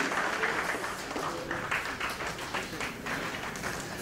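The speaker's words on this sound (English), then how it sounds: "Big round of applause, please." Audience at an HR conclave in Navi Mumbai applauding steadily, a soft, fairly distant wash of clapping that holds evenly throughout.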